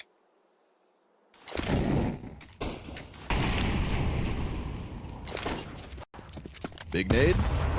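A grenade detonates in Counter-Strike 2 during a professional Falcons versus M80 esports match: a sudden loud blast after a quiet start, followed by gunfire and game noise under excited commentators' voices.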